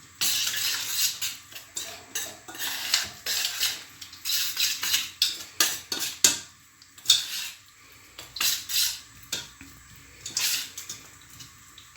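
A utensil stirs fish-dish ingredients with garlic in a bowl, making irregular bursts of close scraping, clinking and wet mixing sounds with short pauses between them, and no voices.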